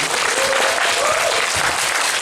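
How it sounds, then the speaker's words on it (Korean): A cinema audience at a Bucheon International Fantastic Film Festival screening talk applauds an actress. The clapping is dense, loud and steady, filling the hall without a break. "우리 배우님께 일단 뜨거운 박수와 인사 한번 드리겠습니다"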